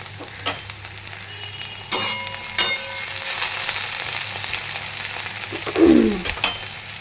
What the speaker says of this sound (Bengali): আগে উচ্ছেটা ভেজে নেবো ভালো করে তারপর আলুটা ভাজবো আর সর্ষে তেল দিয়ে করছি সবজি